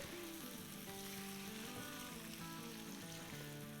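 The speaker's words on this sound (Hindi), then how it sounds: "ये इसके साथ ही हम भूनेंगे, प्याज़ों को और बैंगनों को साथ साथ फ्राई करेंगे।" Onions and eggplants frying together in a pan, a steady dense sizzle throughout, faint and continuous with no talking.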